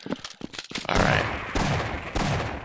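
Revolver gunfire in a video game cracks out in a sharp, loud burst of repeated shots, followed by three heavier booming blasts spaced about half a second apart, each trailing off into a rumbling decay.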